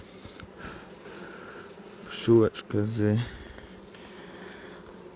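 Honeybees hum around a hive frame during a beekeeper's inspection of young splits with newly emerging bees, a steady close buzz under quiet speech that swells briefly as a bee passes near.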